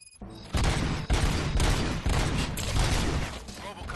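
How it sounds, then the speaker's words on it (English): Rapid gunfire from the video game RoboCop: Rogue City on Xbox Series X, a loud dense fusillade of overlapping shots and booms that rolls on for several seconds after a brief quiet start. "Gunshots? What's going on?"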